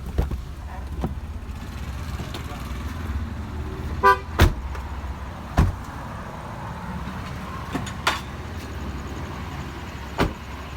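A car unlocked by remote gives a short horn chirp amid engine and traffic sounds, with a few sharp clicks and thumps standing out over a steady low rumble.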